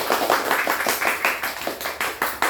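A primary classroom of pupils claps together for a correct answer, giving a quick, rhythmic burst of close, bright hand claps in repeated short beats throughout.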